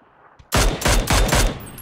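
Rapid bursts of gunfire from the PUBG battle royale video game, four or five loud, sharp shots in quick succession after a brief quiet lead-in, close and dominant with no talk.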